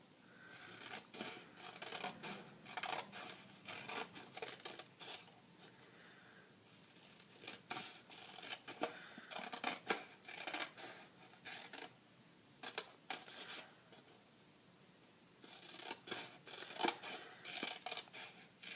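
Scissors cut through folded paper held together for a paper loom, producing close, quiet repeated snipping and crisp slicing bursts in irregular runs, with brief pauses between cuts.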